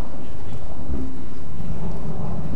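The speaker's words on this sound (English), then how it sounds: "It's raining out here." Heavy rain pours in the Tomb Raider (2013) game, a loud, constant hiss with a deep rumbling low end like distant thunder, without a break.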